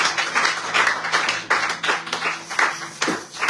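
A church congregation claps and applauds in praise of the Lord, a dense crowd of hands beating in an uneven, continuous rhythm with brief swells, fairly close and lively throughout.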